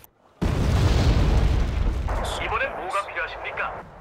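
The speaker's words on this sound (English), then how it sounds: "Any idea where the artillery are coming from?" Artillery fire in the Cold War strategy game Wargame Red Dragon in a large 10-versus-10 Japan and South Korea battle: one sudden heavy blast rolls into a long rumble, with voices talking over its tail.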